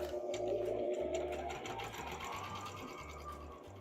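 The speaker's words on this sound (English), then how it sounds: "I don't want to figure out my sewing machine again on camera" A home sewing machine runs in short bursts, its needle chattering in a steady rhythm that starts, stops and restarts, close by and moderately loud, with no voices.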